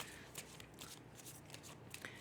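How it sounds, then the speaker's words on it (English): A deck of tarot cards is shuffled by hand in a quiet room, giving faint, close papery riffles and soft flicks in irregular bursts, with no talking. "I will shuffle them so you can see them"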